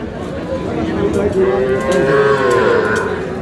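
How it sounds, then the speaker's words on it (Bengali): Cattle on a Kushtia farm selling small bull calves give a long, close, wavering moo that swells and fades over a few seconds, with no other sound. "আচ্ছা আদর ভাই, আপনি একটু আমাদের গরুগুলো দেখান, কোথা থেকে কালেকশন করছেন?"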